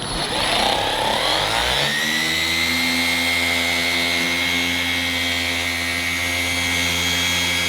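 A machine polisher works compound into the paint of an Audi B9 S4, its motor spinning up from a rough start into a steady high whine with strong tonal harmonics, continuous and close.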